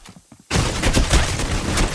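AK rifle fire in a competitive esports video game match, a sudden rapid burst of loud automatic shots that continues steadily after a quiet lead-in.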